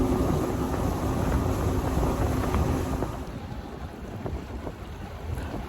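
Mercury 200 HP outboard boat engine at full throttle, with a loud steady roar that drops a little partway through, heavily mixed with wind buffeting the microphone and water noise, no talk.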